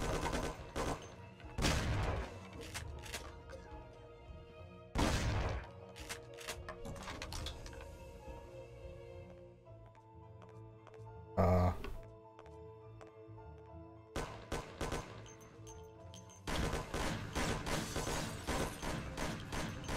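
Colt gunshots ring out in the video game Mafia, several sharp loud bursts spaced over the stretch with metallic clicks and mechanical ticking between them.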